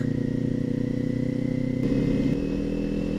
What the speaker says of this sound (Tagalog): Daming motor papunta doon.